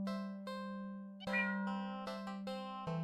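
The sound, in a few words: cat meowing in a cat video game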